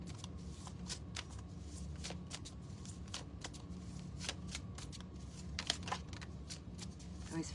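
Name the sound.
shuffling a deck of tarot cards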